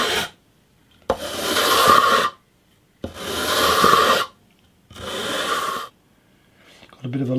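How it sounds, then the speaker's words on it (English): A levelling beam faced with 320 grit sandpaper rubbed over guitar frets: three long, gentle rasping strokes, each about a second or more, separated by short silences, close up. "I'm just going to rub this levelling beam, which has got 320 grit on it,"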